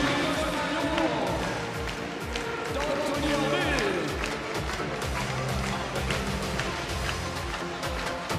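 Arena audience at an FEI Driving World Cup competition in Lyon applauds the French driving team, a dense, steady wash of clapping and crowd noise running continuously beneath a commentator's voice.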